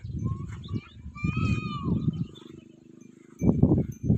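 A goat kid bleats in short wavering cries near a livestock pen, mixed with rough low grunting animal sounds.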